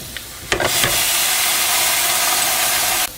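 Chicken pieces flipped over in a Ninja cooking system pot, a couple of clattering knocks followed by a loud, steady sizzle and hiss that holds evenly for a few seconds, then cuts off abruptly.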